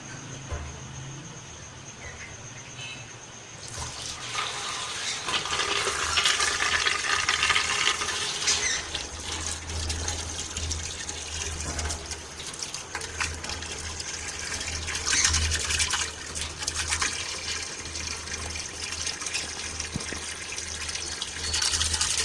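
Water pours and gushes steadily into a vessel, a continuous splashing rush that starts after a few seconds of quiet and keeps going.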